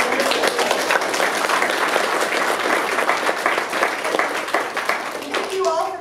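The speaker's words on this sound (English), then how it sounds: "I want to give a big round of applause" An audience at a networking talk breaks into sustained, dense applause with steady clapping throughout, fairly loud and close, and a voice briefly comes in near the end.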